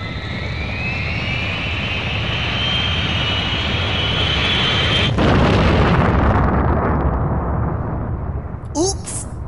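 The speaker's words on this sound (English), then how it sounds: "Please start the main engine." A roaring engine starts in the PaRappa the Rapper 2 video game, a rising whine building into a loud sustained rumble that swells and surges midway, with brief game voices near the end.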